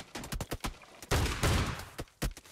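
Shotgun fire in a video game rings out as a quick series of sharp, punchy blasts, some spaced and some close together, with a longer rumbling burst in the middle.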